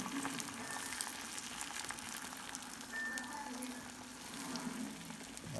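Scrambled eggs cooking in a pan on medium heat give a faint, steady frying hiss, continuous and even throughout, with no talk.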